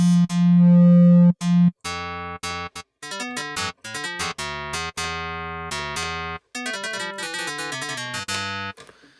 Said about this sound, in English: We can use that sine wave underneath to help tune.